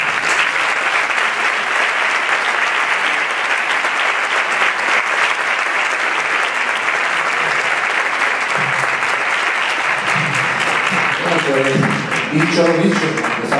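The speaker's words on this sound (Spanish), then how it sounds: "me gustaría que mandara un saludo que está aquí presente, que se levantara y le demos un aplauso" Audience applause fills a flamenco festival in La Línea, sustained and loud for the whole stretch, with voices and cheers emerging near the end.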